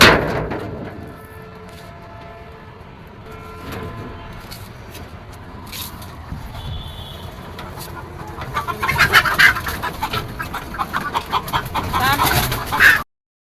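Chickens on a rooftop poultry farm, with scattered soft clucks and bird calls at first, growing into busier clucking and rustling toward the end.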